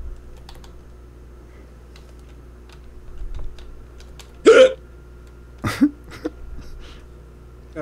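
Person hiccuping in sharp, sudden bursts, two prominent hiccups a second apart followed by smaller ones, near and loud against quiet computer keyboard typing.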